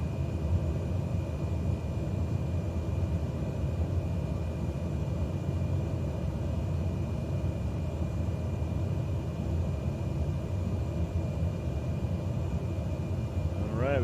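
A light aircraft cruising at about 1,700 feet in Microsoft Flight Simulator 2020 on a flight in the EGPA–EGEP–EGEW area of Orkney, its engine a steady, unbroken drone with rumble throughout.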